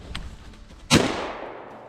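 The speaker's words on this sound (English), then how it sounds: "With the gunshot going off, it wasn't long before Vest was on the scene" A single sharp gunshot rings out while bird hunting in Finnish Lapland, one loud crack about midway followed by a long fading outdoor echo.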